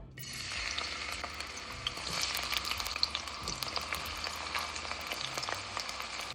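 Onion sizzling in hot oil as the base for Jamaican cabbage and corned beef, a steady crackling fry with soft spatters throughout, close by and moderately quiet, with no talking over it.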